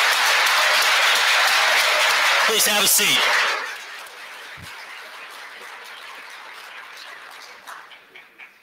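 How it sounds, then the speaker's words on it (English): A crowd at the CyberPatriot National Finals opening ceremony gives the team captains a loud, dense round of applause that stops abruptly after a few seconds. A voice speaks briefly over the clapping, then a quieter room with murmuring remains. "Let's have a round of applause for our team captains."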